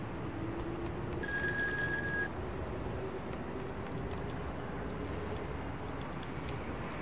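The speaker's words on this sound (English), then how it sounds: "Press all the buttons, answer the phone." A telephone rings in a retro video game: a bright electronic trill lasting about a second, set over a steady rumbling game background that continues after the ring stops.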